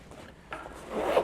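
A mesh pocket zipper on a Bellroy Transit 5L sling bag is pulled, a short raspy slide that starts suddenly and grows louder, close up, with no speech.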